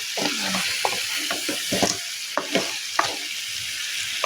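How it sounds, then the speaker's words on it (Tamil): Crab in masala gravy is stirred in a pan, a steady close sizzle broken by repeated scraping and clacking strokes of the spoon throughout. "நண்டில் மசாலாலாம் ஒட்டி பிடிக்கிற மாதிரி கிண்டிக்கோங்க"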